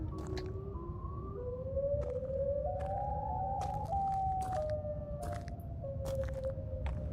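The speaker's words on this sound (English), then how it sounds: "there's gonna be like a constant, like a siren sound, basically" In a horror video game, a constant siren wails with a slowly rising and falling tone under low rumbling ambience, with scattered clicks and thumps around it.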